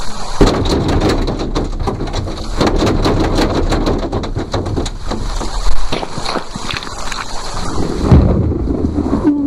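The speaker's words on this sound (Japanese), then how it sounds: "嵐が収まるまでここにいた方がいいですよ。" Rolling thunder over steady heavy rain inside a binaural horror attraction, a murder-lodge haunted house at an indoor theme park in Tokyo; dense, loud and continuous, with a sharper crack near the end.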